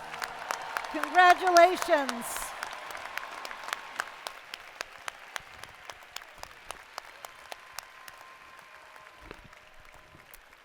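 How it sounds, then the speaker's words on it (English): Graduates at a spring doctoral and medical commencement ceremony receive applause: a voice offers brief congratulations over a tonal swell, then scattered claps continue, thinning and fading across the hall. "Let's give these graduates a big round of applause"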